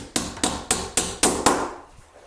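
Six sharp, evenly spaced taps on a loose metal plastering bead, each ringing with a thin, tinny rattle, then fading into quiet.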